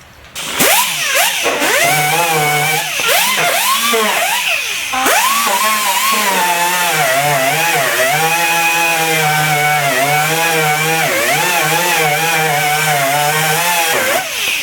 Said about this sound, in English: use a die grinder and a wire brush